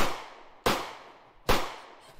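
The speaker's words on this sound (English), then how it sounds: "Gunshots!" Three sharp gunshot sound effects crack out one after another at roughly even intervals, each loud report trailing off in a short echoing decay.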